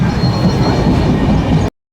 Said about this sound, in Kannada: ಇವಾಗ ಟ್ರೈನ್ ನಿಂತಿದೆ. ನೇನು ಹೊರಡುತ್ತೆ.